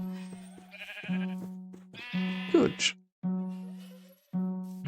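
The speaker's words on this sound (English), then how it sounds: "Now we've got some sheep here." Sheep in the video game Minecraft bleat in several distinct wavering calls, close and loud, separated by short gaps, with no talking over them.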